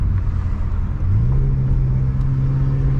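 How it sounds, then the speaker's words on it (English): A straight-piped BMW F10 M5 with catless downpipes, resonator and muffler deleted idles in sport mode with a deep, loud, steady rumble and a rising drone that swells and settles into a constant hum. "Listen to those turbo spool."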